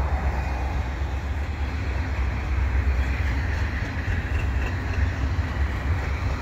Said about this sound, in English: General Electric AC4400CWM locomotives